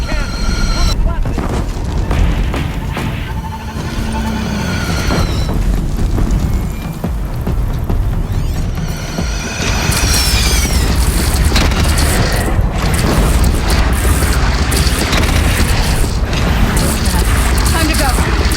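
Heavy booms from cannon fire in Horizon Zero Dawn's final battle, loud deep blasts rolling continuously with rumbling explosions and wind-like roar, voices calling out at times.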